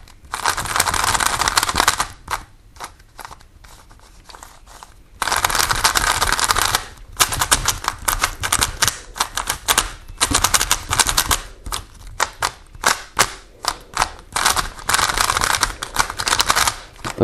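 A magnetic 3x3 speed cube is turned by hand, giving rapid clicky rattling bursts of layer turns with short pauses between sequences, close and crisp.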